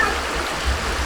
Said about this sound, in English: Here we have a hot water spring,